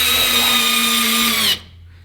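A compact pocket power screwdriver on clutch setting 2 drives a screw in one continuous high-pitched motor whine, loud and close, then cuts off abruptly into near silence.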